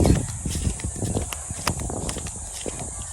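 Irregular hoof thuds of carabao walking through a farm field, close and uneven in rhythm, with faint outdoor background noise.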